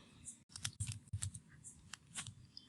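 Quick, close clicks and taps of a computer keyboard as a product name is typed, an irregular run of soft keystrokes with short pauses.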